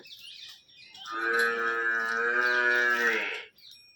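A buffalo gives one loud, close, drawn-out moo lasting about two and a half seconds, a rich tonal bellow standing alone after a brief quiet rustle.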